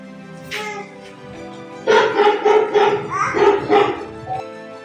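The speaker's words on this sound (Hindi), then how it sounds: "कुत्ते की आवाज निकालो।" Recorded dog barking played on command, starting with one short yelp and then a quick run of five or six loud, close barks with no pause between them.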